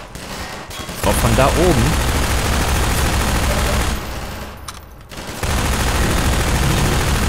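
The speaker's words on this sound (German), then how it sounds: "Beschuss von wo?" Gunfire in the video game Half-Life 2: sustained loud shooting across most of the span, broken by brief quieter gaps, with someone speaking over it.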